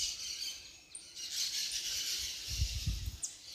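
Small birds chirp and sing faintly in the background outdoors, with thin high calls running through the clip and a low thump near the end.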